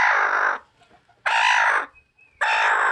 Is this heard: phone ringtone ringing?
no